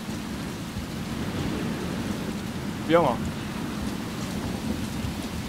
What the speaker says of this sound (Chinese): 暴雨